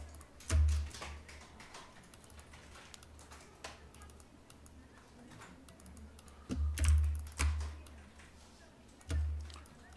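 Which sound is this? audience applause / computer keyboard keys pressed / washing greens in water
computer keyboard keys pressed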